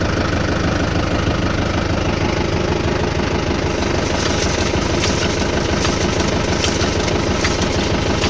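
A Mahindra tractor engine runs steadily with the PTO engaged, a loud, close, continuous diesel drone with rattling vibration and no voices.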